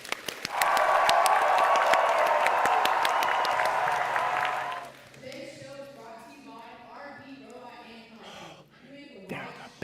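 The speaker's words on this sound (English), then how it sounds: "Why don't you give yourselves a round of applause?" Applause at a kids' camp, a burst of crowd clapping for about four seconds before it drops away and a voice begins talking over the quieter room.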